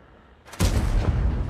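A single heavy tank cannon shot in World of Tanks, a sudden loud boom with a rumbling tail.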